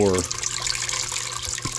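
Water drains slowly through the trays of a SunSun 304B aquarium canister filter, a continuous close trickle and splash with a voice speaking at the start.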